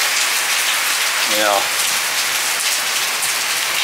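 Rain falling steadily outdoors near a workshop bench and trellis, a loud close continuous hiss of drops on surfaces, with someone briefly speaking over it.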